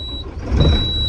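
Engine of a big truck hauling a crushed-stone gravel load, idling with a low rumble that swells as the vehicle pulls away, close and fairly loud with a thin steady whine over it.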